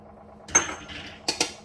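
A spoon clinks and scrapes against a bowl while peanut chutney is stirred with water, a cluster of close metallic knocks followed by two sharp taps near the end.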